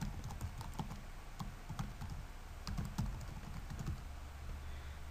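Quick, light clicking of fingers typing on a computer keyboard while entering an email during a web software install, bursts of keystrokes with short pauses, fairly close and quiet.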